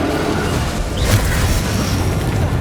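A Descendo spell impact in Hogwarts Legacy lands as a single deep boom about a second in, over a dense, loud rumble of continuous spell-combat noise.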